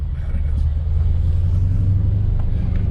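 A Dodge Challenger 392 fitted with Dynomax Race Bullet mufflers idles close by, a steady, fairly mild low exhaust burble holding an even level throughout.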